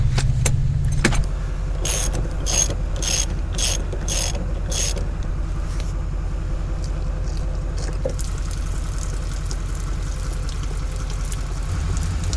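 Ratcheting and mechanical clicks from loosening the drain plug on a truck camper's water heater in a parking lot, a quick run of sharp clicks early on, then a steady, fairly loud background rumble.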